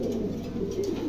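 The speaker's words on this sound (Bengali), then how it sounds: "চমৎকার এক জোড়া মুন্ডিয়ান, নতুন নিউ মডেল কবুতর" A pair of Mundian pigeons gives a brief, low, continuous coo, close and moderately loud.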